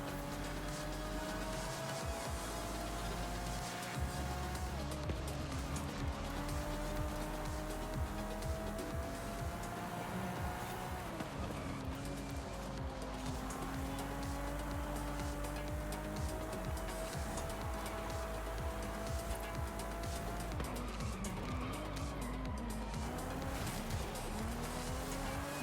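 A car is driven hard in the Forza racing game, its engine droning and shifting pitch steadily through the whole stretch, with tire squeal and skidding sounds mixed in, loud and continuous.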